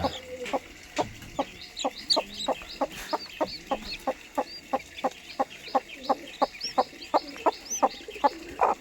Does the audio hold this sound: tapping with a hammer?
no